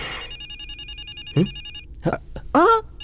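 An electronic phone ring repeats in steady pulses, then a few short voice sounds break in near the end.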